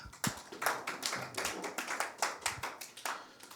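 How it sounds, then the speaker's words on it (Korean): A church congregation claps together in celebration at a Sunday service, a steady, fairly loud patter of many hands with uneven rhythm lasting several seconds, no voices over it. "축하의 박수 한번 주십시오."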